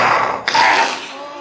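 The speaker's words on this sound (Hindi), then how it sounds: "खांसी आ गई" A single close, loud cough bursts out, followed by a brief rough exhale.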